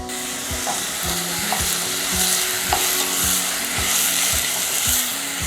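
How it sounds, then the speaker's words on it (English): Mirepoix vegetables and flavor peppers sweat in a hot pan, giving a steady loud sizzle with repeated scraping stirs in an even rhythm. "Now we're sweating down the mirepoix veg."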